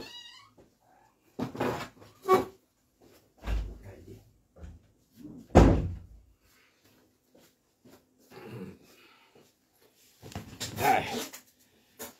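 A domestic cat meows indoors in several scattered, separate calls, some drawn out and whiny, spread across roughly twelve seconds between quiet gaps. A few soft knocks and shuffles can be heard as well.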